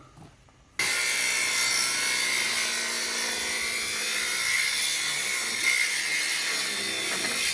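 A Hypertherm Powermax plasma cutter starts abruptly and roars steadily, a loud continuous hiss-and-crackle as it slices through a seized muck-spreader main drive gearbox housing.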